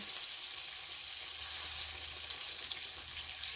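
Pork tenderloin frying in very hot oil gives a steady, close, continuous sizzle and crackle with no one speaking.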